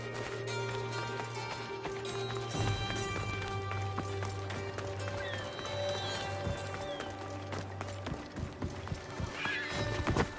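In a PS4 video game, a horse gallops with rapid, driving hoofbeats and lets out a whinny, heard over steady tonal game music and effects.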